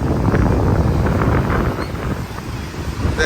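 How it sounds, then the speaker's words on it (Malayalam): Strong wind buffets the microphone on Kovalam beach in Trivandrum, with surf rolling in underneath; the gusty roar stays loud and steady throughout, easing slightly partway. "നല്ല ക്ലൈമറ്റ് ആട്ടോ, നല്ല കാറ്റുണ്ട്."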